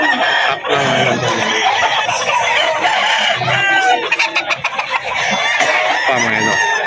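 Green-legged roosters and hens crow and cluck loudly close by, with overlapping crows and busy clucking throughout and a voice faintly beneath.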